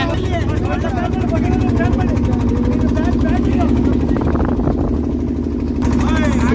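Motorboat engine idling on the water at Honnavara, a steady low continuous drone that holds throughout while people talk nearby.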